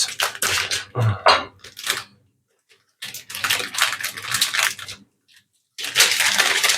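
Powdered sugar poured from a sturdy package after knocking it, a series of close, bursty rustling and clattering pours with short pauses in a home kitchen while making a sweet-and-sour mustard salad dressing.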